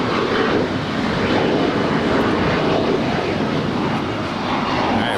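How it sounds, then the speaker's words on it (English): Alaska SkyWest Embraer E-175LR jet rolling down the runway for takeoff at Los Angeles airport, a steady broad roar of engines heard from a distance, without talk. "Rolling down the runway here is an Alaska SkyWest Ember E-175LR that is flight 3499, taking off for a flight to San Francisco."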